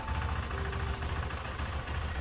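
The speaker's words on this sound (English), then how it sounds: "start the engine and allow it to idle for 5 minutes." A 2023 KTM 390 Adventure motorcycle engine idles steadily, a low, even mechanical thrum with a faint whine throughout the short stretch.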